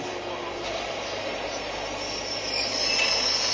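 A train rolls through an old station in a 3D horror-themed ride, a continuous rumbling roar with hissing, faint screeching overtones that swells louder toward the end.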